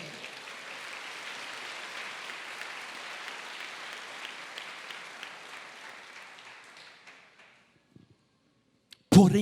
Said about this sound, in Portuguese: Diga aleluia e dê um aplauso ao Senhor.